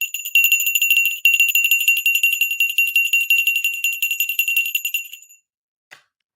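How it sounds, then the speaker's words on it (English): A bell rung in rapid, steady repetition for several seconds, a loud bright metallic trill that stops abruptly, followed by one faint tap. "NVIDIA, we got to ring the bell."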